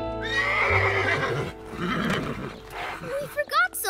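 A cartoon horse in a Fisher Price Little People animated episode gives a loud, drawn-out neigh and whinny, followed by a short burst of snorting and quick whinnying calls, close and clear with no spoken words.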